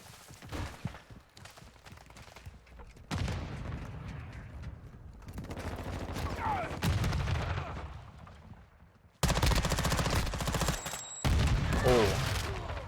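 Gunfire in the video game Modern Warfare 2: bursts of shots and heavy firefights come and go in loud, irregular stretches, with short quieter gaps in between and a big sudden loud burst near the end.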